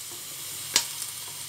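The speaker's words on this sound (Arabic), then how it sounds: "غندير فيها الزيت، وغندير فيها واحد الراس الثومه يتحمر شويه" A whole head of garlic fries in oil with a soft, quiet sizzle. A single sharp pop or crackle stands out midway.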